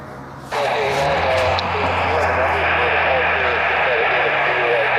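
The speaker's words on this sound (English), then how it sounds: "The United 777 is taxiing as Flight 804." United Boeing 777 airliner taxiing at an airport at night, a steady loud jet engine roar that swells in after a moment and holds evenly, with wind noise over it.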